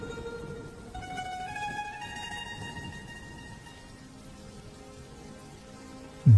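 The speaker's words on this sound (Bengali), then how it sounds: "বৃষ্টি জল যে ভাতের হাঁড়ির মধ্যে পড়ছে" Rain pouring onto a leaky kitchen roof and dripping into a rice pot, a soft steady patter with faint tonal streaks, fairly quiet and continuous, ending in a sudden low thump.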